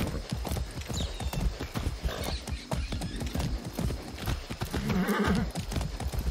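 Horse hooves clip-clopping in the video game Far Cry 6, a rapid uneven run of loud close hoofbeats with a brief whinny and game sounds mixed in.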